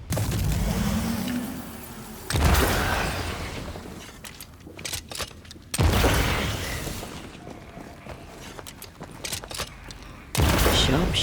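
Gunfire in the video game Banishers: Ghosts of New Eden, several loud bursts of shots standing out from quieter game ambience and background sound across the stretch.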